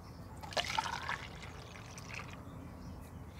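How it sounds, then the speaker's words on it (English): Hydrogen peroxide poured through a funnel into a bottle for an elephant toothpaste experiment, a soft brief trickle and splash lasting about two seconds, fairly quiet over a low room hum, with no talking. "We'll pour our hydrogen peroxide into the bottle using the funnel."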